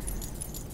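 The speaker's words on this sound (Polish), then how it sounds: "I klucze." Keys jangle in the Skyrim video game, a brief, faint metallic clinking that repeats lightly over a low background rumble.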